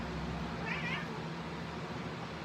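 A single short cat meow rising briefly above a steady, noisy indoor background hum.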